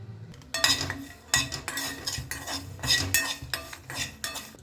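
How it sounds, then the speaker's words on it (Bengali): Dry-roasting peanuts, nigella seeds, dried chillies and curry leaves in a dry pan: repeated close scraping and rattling stirs with a few metallic clinks, in an irregular rhythm with no talking. "চিনাবাদাম নিয়েছি, কালো জিরা, দুটো শুকনো লঙ্কা আর কারি পাতা। এগুলো রোস্ট করে নেব প্রথমে শুকনো খোলায়।"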